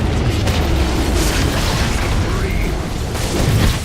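An enemy turret is destroyed in League of Legends with heavy, rumbling booms and bursts that roll on without a break, while a voice talks over the game sounds.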